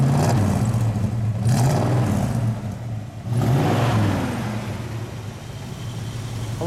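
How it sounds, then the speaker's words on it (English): A close, deep 1970 AMC Javelin SST engine revs in several throaty surges, dropping back to a rumbling idle between pushes, with no talking. "Do me a favor, just give me a little exhaust note."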